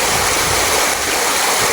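Hill stream in Kollimalai rushes just above a waterfall, a close, loud and constant broadband hiss of flowing water with no other sounds.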